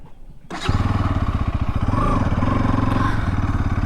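A Bajaj Pulsar NS200 BS6 motorcycle fires up abruptly and settles into a loud, rapid, throbbing exhaust idle, close by, with a slight rise in revs partway through.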